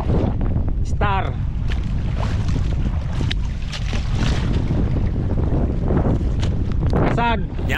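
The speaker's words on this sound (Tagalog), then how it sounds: "Pano, makusugon ng hangin mga padi." Strong wind roars across an open microphone outdoors, a loud steady rushing gust that runs throughout while people talk over it.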